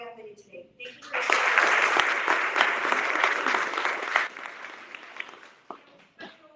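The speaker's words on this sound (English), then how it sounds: "let's give our media, of course, friends, a round of applause" A crowd at a live mayoral forum breaks into loud, sustained applause for the media in attendance. The clapping swells quickly, holds for about three seconds, then fades into a few scattered claps.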